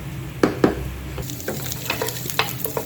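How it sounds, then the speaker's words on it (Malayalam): Beef frying in a pan for a beef pulao, with a steady sizzle under sharp scraping stirs of a spoon against the pan, several quick strokes spread over a few seconds and no talk. "ഇറച്ചി ശരിക്ക് ഫ്രൈ ആയി വന്നിട്ടുണ്ട്."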